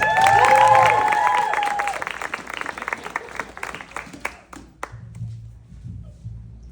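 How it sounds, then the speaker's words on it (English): At a bookstore author event, the audience gives two authors a round of applause. The clapping starts loud with a few cheers, thins into scattered individual claps, and fades out by the end. "Give them both a big round of applause."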